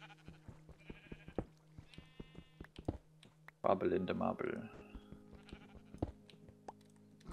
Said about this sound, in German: Das ist auch ein Schaf.